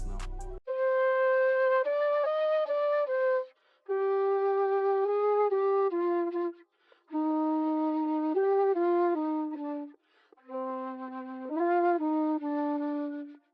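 A reverb-washed, EQ-shaped flute phrase sample in an FL Studio beat plays four melodic runs separated by short gaps, each bright, breathy and sustained, with no other sounds.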